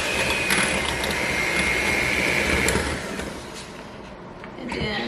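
A stand mixer churns steadily while creaming filling for sourdough cinnamon rolls, a loud, continuous whirring grind that eases slightly near the end.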